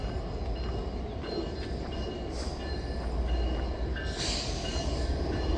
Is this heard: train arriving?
yes